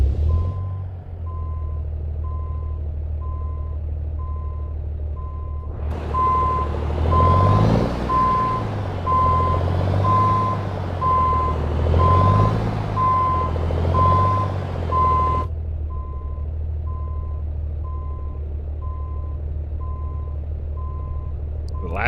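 Steady, evenly spaced reversing beeps from an International 9900i truck backing in, in American Truck Simulator, sound over a constant diesel engine drone, with the engine revving louder partway through.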